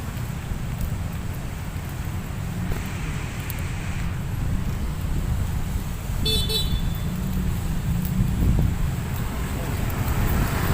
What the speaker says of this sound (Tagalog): yan traffic dito